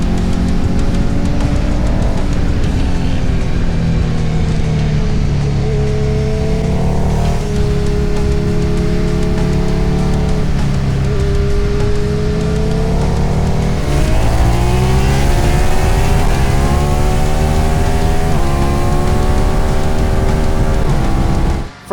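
A KTM Super Duke motorcycle roars around a MotoGP circuit, its loud, close engine note rising and falling steadily through gear changes, droning on with a buzzy, sustained tone and no voices.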